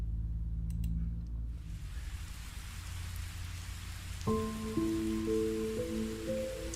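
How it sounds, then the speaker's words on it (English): Steady rain patters on a surface throughout, fairly close and even, with a brief low tonal hum near the start and a few musical tones entering near the end. "Abe been listening to 10 hours of relaxing and rain sounds."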